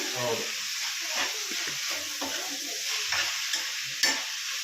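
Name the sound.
chicken frying and sizzling with mint being stirred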